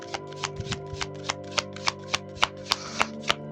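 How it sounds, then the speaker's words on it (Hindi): Tarot cards are shuffled by hand nearby, a quiet run of crisp, evenly spaced riffling snaps with a faint steady background hum. "so let me shuffle more and let me check what's coming more here"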